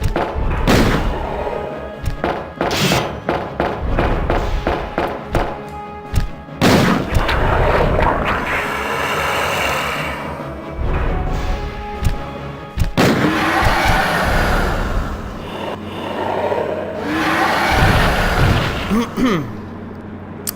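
Repeated weapon fire in the Biohazard 2 video game on PC, with heavy booming shots and thuds that come in bursts and clusters over a busy game soundscape, loud and close.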